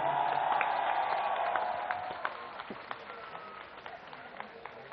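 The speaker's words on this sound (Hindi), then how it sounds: "अपने लिए जोरदार तालियां बजा दो" Crowd applause at a political rally at Jantar Mantar in Delhi, a dense wash of clapping that swells at first and then thins into scattered claps with a few shouts.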